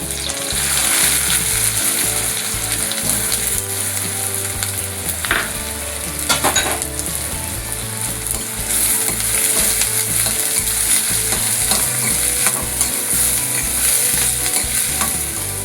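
Crushed garlic and chopped onion frying in oil in a pan, a loud continuous sizzle with occasional scraping stirs and clinks, no voices.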